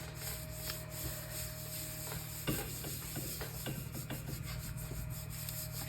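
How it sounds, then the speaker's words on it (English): Soft, steady rubbing and scraping over paper laid on painted leaves and stencils, close and continuous, with a few sharper scratchy strokes and a constant low hum behind. "make sure you rub around all your leaves, all around your stems"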